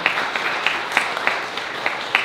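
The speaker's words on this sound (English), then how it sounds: "let's give Scott a round of applause for the sound." A small audience at a live acoustic music show applauds the sound engineer, steady clapping with distinct rhythmic individual claps standing out, close and fairly loud, with no talking.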